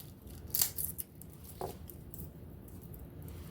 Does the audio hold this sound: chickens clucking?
no